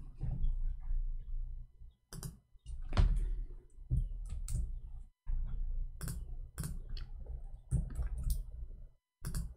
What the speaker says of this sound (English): I'm typing in Arabic, hold on.